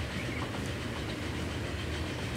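A train running in the video game Transport Fever, a steady close rumble of rolling wagons and engine with no breaks.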